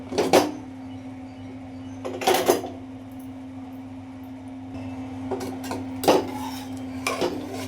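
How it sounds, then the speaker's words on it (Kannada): A few sharp metallic clanks of a pressure cooker lid and pot being opened after cooking lentils and vegetables for sambar, spaced apart over a steady low hum. "ಕುಕ್ಕರ ಓಪನ್ ಮಾಡ್ತೀನಿ ನೋಡಿ."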